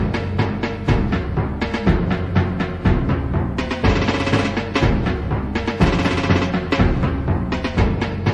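Cheaply produced MIDI orchestral intro with timpani from a debut cassette, a loud, dense, booming rhythmic pounding over thick synthetic orchestra, steady and continuous throughout.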